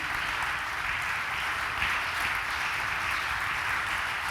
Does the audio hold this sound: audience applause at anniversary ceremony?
yes